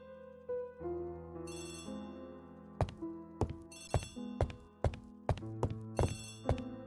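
Telephone ringing in the mystery video game Agatha Christie's ABC Murders: repeated bright ringing bursts over soft game music, growing more frequent toward the end, with no talk.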